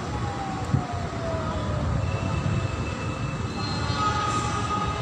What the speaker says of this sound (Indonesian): Jalur 3 kereta api melintas langsung.